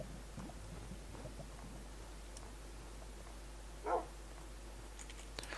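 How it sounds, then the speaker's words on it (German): Dogs bark in the Minecraft video game, one short faint yelp standing out over a quiet, low background hum. "Warum sind hier so viele Hunde?"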